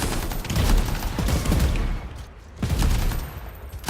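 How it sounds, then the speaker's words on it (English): Video-game gunfire in Anthem: loud bursts of rapid shots come in two volleys with a short lull between, like a fusillade aimed at the player. "Something's shooting at me."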